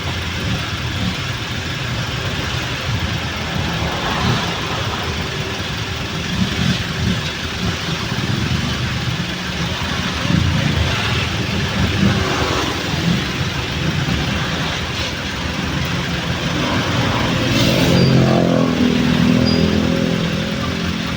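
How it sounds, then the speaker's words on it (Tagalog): Slow, heavy road traffic on the way out of Davao toward the airport: cars and motorcycles idle and creep along, with a steady engine drone and occasional revs from nearby vehicles. "napaka-traffic po."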